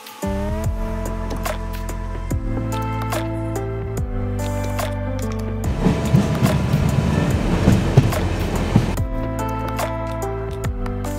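A Vistadome glass-roofed coach train rolls toward Alipurduar Junction, steady rumbling with rhythmic clickety-clack of wheels over rail joints, growing rougher and louder in the middle before settling again; no one speaks.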